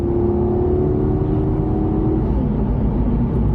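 A Maserati fitted with a WindBooster throttle controller kicks down as the throttle is pressed, its engine holding a loud, steady, close rumbling growl with a droning whir that shifts slightly in pitch.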